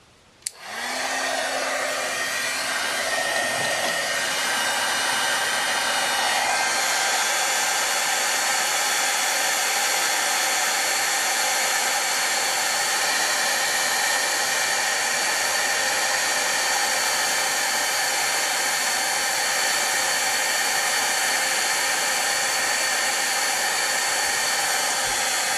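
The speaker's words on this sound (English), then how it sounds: "And then you heat it with our heat tool" A heat tool blasts hot air to melt embossing powder on a craft keepsake box, switching on with a click into a loud, steady hair-dryer-like rushing roar that stays constant for the rest of the clip with no talking.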